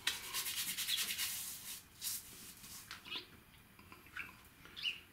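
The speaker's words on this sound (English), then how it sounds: "You just rub your fingers through there" Fingertips rubbing through very soft shaving soap in a tub, giving quiet, close, moist squelching and rubbing sounds in short irregular strokes, with no talking.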